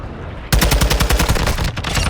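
Call of Duty Modern Warfare 2 chopper gunner firing from above: a sudden loud burst of rapid, evenly spaced heavy shots that runs for over a second, then cuts off.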